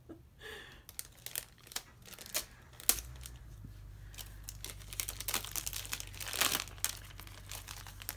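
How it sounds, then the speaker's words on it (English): A tightly packed parcel of K-pop merchandise is cut open, with close crinkling plastic, sharp snips and tearing in irregular bursts, followed by a low steady hum beneath the rustling. "Okay, I'm gonna have to cut this open."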